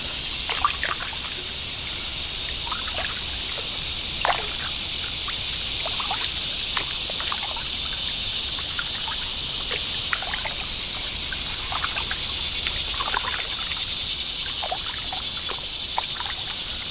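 A kayak glides along a canal lined with sycamore trees, paddle strokes dripping and trickling water in a soft irregular rhythm, with steady high insect or bird chatter filling the background.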